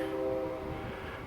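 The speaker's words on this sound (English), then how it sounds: "Train whistle blowing in the background." A distant train whistle holds a steady, faint tone over quiet outdoor air with a light breeze, near an old backyard woodshed at a historic village park.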